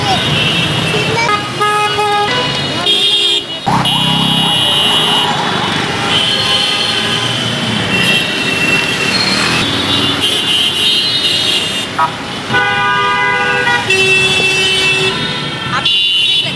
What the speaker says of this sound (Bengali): পিছনে গাড়ি থেকে হর্ন দিয়েছিল